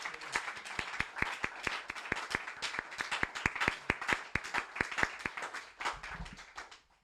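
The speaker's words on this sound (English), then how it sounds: "May we have a round of applause for both of our readers." An audience claps after a poetry reading in a series of readings, a modest room's worth of applause with distinct sharp hand claps in a quick, uneven rhythm, fairly close, tapering off at the end.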